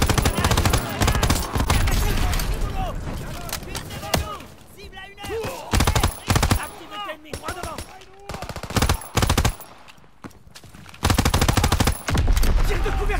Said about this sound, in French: Tire de couverture à gauche!